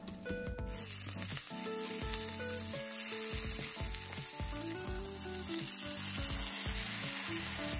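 Green chilies sizzle and fry steadily in garlic-scented oil, a dense continuous crackle with stirring clatter, close and unbroken without any talk.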